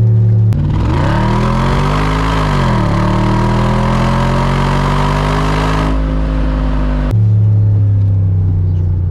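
An Audi S4 B7 quattro estate's engine revs hard while driving, a loud close roar climbing through the revs, dipping at a gear change, then holding a steady drone before easing off.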